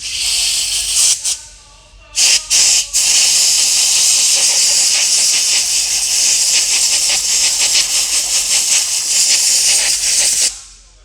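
An air blower blasts compressed air over car computer terminals: a few short sharp hissing bursts, then one long loud steady rushing hiss that cuts off near the end.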